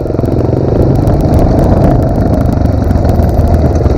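A Pro Tork TR100F mini motorcycle engine runs steadily and loudly up close, shifting gears without a clutch, its buzzing drone holding throughout with a faint clattery rattle.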